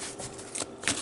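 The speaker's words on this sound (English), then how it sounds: "I'm going to draw some advice cards" Advice cards are drawn from a deck, making a few quick, close papery swishes and flicks in short bursts. There is no talking over them.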